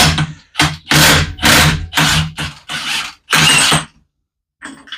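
Loud bursts of an impact wrench zipping 30 mm bolts off a transmission during a 2017 Yamaha YXZ1000R SS stick-shift conversion, about seven rapid hammering pulses in quick succession, then a brief quieter burst after a short pause.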